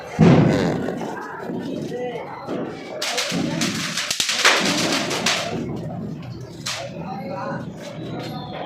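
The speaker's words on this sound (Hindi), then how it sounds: "पटाखा बजा रही है।" Diwali firecrackers go off outdoors at home in a cluster of sharp bangs and crackles. People talk throughout.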